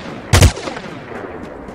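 Gunfire in the blockchain NFT first-person shooter Fabwelt's Arsenal: a short, sharp burst of two quick shots, followed by quiet game ambience.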